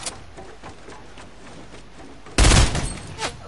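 Gunfire in a first-person shooter match, a burst of loud close shots erupting abruptly after a stretch of low background game ambience, with a few trailing shots fading afterward.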